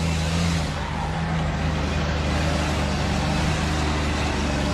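A big blue truck accelerates hard nearby, with a steady, loud engine roar and a low rumbling drone held throughout without letting up.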